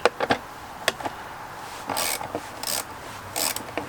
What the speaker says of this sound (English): 10mm socket and a extension and a ratchet.